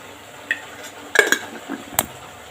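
A spoon stirring chili powder into hotel-style sambar in a metal pot, a few scattered scraping clinks against the pot with a faint sizzle underneath, close and sparse.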